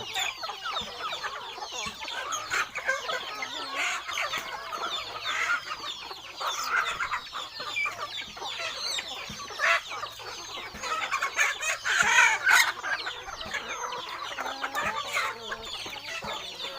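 Thai native chickens of mixed colours cluck continuously and overlap at close range, with occasional crowing rising among the flock and no human voices.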